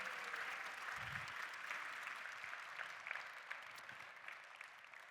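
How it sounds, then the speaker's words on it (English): Audience applause fills the hall at the Genesis Magma world premiere, a steady, dense wash of clapping from a large crowd that holds at an even level throughout, with a brief low thump near the start. "let's give him one more big round of applause"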